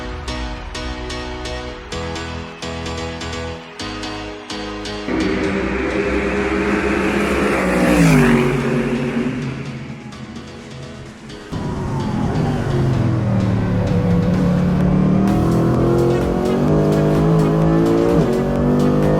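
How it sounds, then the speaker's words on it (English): Mercedes AMG GT3 race car on a wet lap of Shanghai International Circuit, heard onboard as the engine roars and climbs through gears, with downshifts, a dip in volume, then a sustained loud pull. "today we're on board the Toro Racing AMG GT3"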